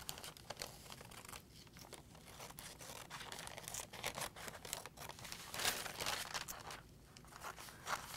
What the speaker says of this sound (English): you will cut it out with your scissors